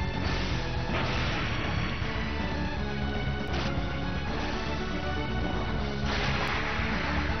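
A Crucible Fire attack in the role-playing game Golden Sun roars steadily as a dense, continuous fiery rush, with sharp swells and cracks recurring around every few seconds. No talk is heard.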